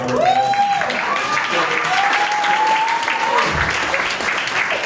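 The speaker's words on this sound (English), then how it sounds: "Give yourself a round of applause for that." Audience applause at a speech about the health agenda aimed at the Black population, a steady wash of clapping from a crowd with a few whoops and raised voices riding over it, holding even throughout.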